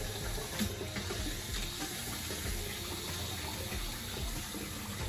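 Water rushes through a tube into an aquarium tank during a water change, a loud steady gushing flow that runs without a break from start to finish.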